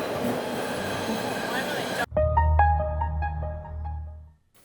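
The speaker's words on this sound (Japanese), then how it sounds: "電車がやってきた。" A train pulling in, probably in New Jersey: a broad rushing roar that cuts off abruptly into a lower rumble with tonal chiming and squeal-like notes, then fades away.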